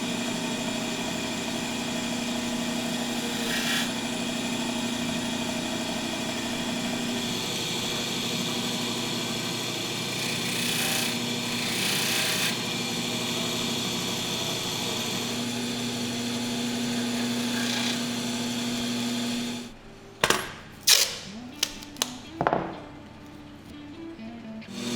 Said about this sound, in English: clean up the pins with a Scotch-Brite wheel and a protective plate